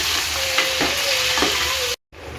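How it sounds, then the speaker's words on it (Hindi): Eggplant sizzles steadily as it is stirred and fried in a pan, with a few clanks of a utensil against the metal before a brief cutoff and a return of the frying hiss. "बैगन डाल के थोड़ा नीचे ऊपर करके तो इधर मिक्स कर रख देना।"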